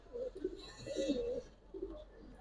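Pigeons, highflyer and colored breeds kept by a fancier, give soft low throaty coos in a few close bursts, with brief faint pauses between them and no talk.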